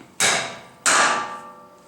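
Two sharp metallic hammer blows on an anchor bolt during a two-post car lift installation, about two-thirds of a second apart, each ringing briefly before fading. Close and loud, with no talking.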